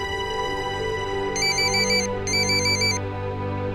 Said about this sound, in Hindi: लो, अब ये फोन की घंटी तो बजती रहेगी।